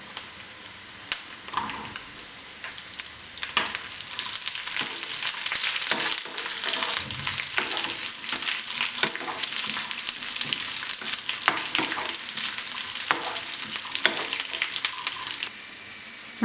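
Raisins frying in a pan for pumpkin payasam, heard as a bright, crackling sizzle that swells after a few seconds and stays busy, with scattered light clicks of stirring over it and no talking.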